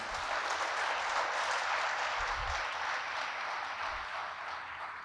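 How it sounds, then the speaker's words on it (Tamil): A large audience at a leadership tribute event claps together, a loud, continuous wash of applause that stays even throughout and dips only slightly near the end. "இந்த கைதட்டுறது எல்லோரும் சேர்ந்து கைதட்டினா கொஞ்சம் சத்தமாக இருக்கும்ல?"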